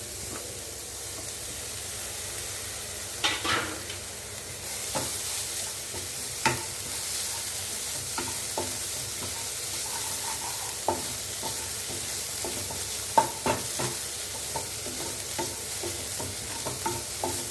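Steady sizzling of vegetables with grated coconut sautéing uncovered in a pan, with occasional scrapes and clinks of a spoon stirring, continuous and close.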